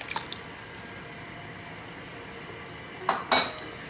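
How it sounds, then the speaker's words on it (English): Hand-crushed tomatoes go into a soup pot of wilting greens with two short, wet squelching splashes and faint clinks. Quiet kitchen stillness separates them. "Then I'm going to add in my tomatoes,"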